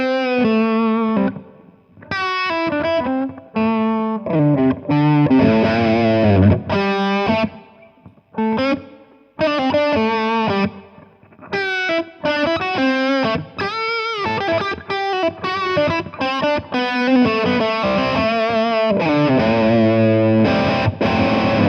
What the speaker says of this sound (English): So this is basically how my lead sound works and sounds.